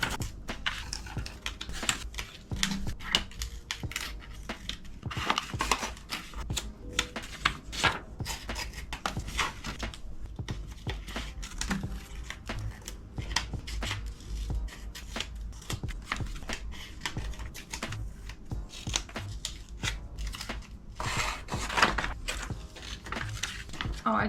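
Scissors snip through printed photo paper in quick repeated cuts with paper rustling and shuffling between them, close and steady, with occasional talking.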